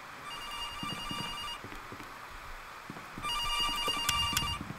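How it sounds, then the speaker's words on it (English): An in-game telephone rings in the horror game CASE: Animatronics, giving two separate bursts of a bright electronic ring with a quiet gap between them, clear over a faint, dark background. "Oh, no, the phone's ringing."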